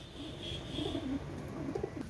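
A pair of Shaki pigeons coo nearby in short, low, throaty pulses, a few soft calls repeating over a faint steady background, with no talking.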